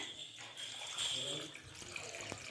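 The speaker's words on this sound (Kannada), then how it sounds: "ಒಂದು ಸ್ವಲ್ಪ ನೀರು ಹಾಕ್ಕೊಂಬಿಡೋಣ" Water is poured into a pressure cooker holding about one and a half kilos of goat head meat, a brief, faint splashing trickle heard close by.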